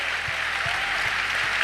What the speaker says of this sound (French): go ahead and give the Lord a big hand